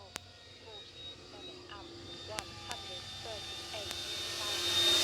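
An E-flite Draco 2.0m RC airplane flies overhead, its electric motor a steady high whine that swells louder toward the end, with faint clicks and a voice nearby.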